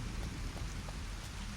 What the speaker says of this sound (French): Il pleut beaucoup là en plus.